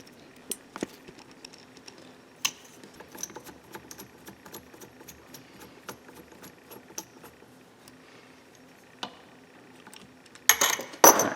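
Small 1.5 mm hex set screws being unscrewed from a Traxxas Rustler RC gearbox: faint metallic ticks and clicks scattered sparsely at close range, ending in a brief cluster of louder rattling clinks.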